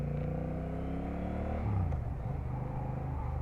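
Steady low rumble of a 2024 Honda Rebel 1100 motorcycle while riding, a smooth engine drone that drops in pitch partway through as it eases off, fairly quiet and continuous with no talk.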